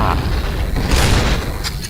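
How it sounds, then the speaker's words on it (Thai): A grenade goes off in the online shooter Point Blank, a loud, booming blast with a rumbling low tail amid in-game combat noise, followed by short sharp clattering sounds. "ระเบิด"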